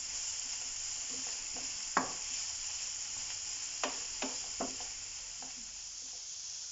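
Onions sizzle steadily in hot oil in a pan for ridge gourd masala, with a constant frying hiss and several distinct scrapes and clicks of a spoon stirring, close and without speech.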